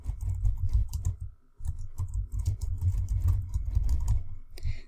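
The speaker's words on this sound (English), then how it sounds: "Let's type in some text." Fingers type text on a computer keyboard in quick, irregular bursts of clicks and key thumps, with a brief pause partway through, close up and alone.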